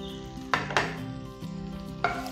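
Kashmiri chili powder and crushed kasuri methi sauté in melted butter for a makhani gravy, giving a steady low sizzle broken by a few sharp bursts of spoon scraping against the pan.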